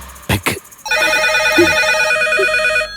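A telephone rings in a Malayalam movie scene, a steady bright electronic trill that starts just after a brief spoken word and continues close and loud to the end.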